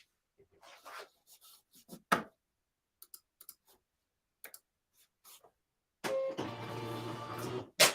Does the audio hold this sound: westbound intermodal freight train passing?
no